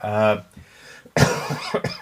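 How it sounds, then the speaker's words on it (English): A voice speaks, then pauses before a sharp cough bursts out close by, followed by more talking. "I still have a cough"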